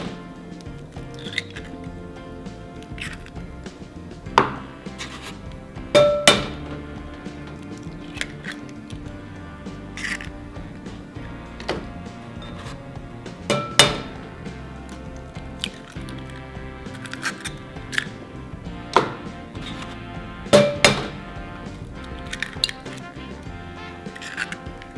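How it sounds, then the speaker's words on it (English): Fork whisking milk, extra virgin olive oil and four eggs in a bowl for a carrot cake batter, giving soft wet squishing and irregular clinks against the bowl, close up with no talking. "I'm gonna use a fork to whisk this all together"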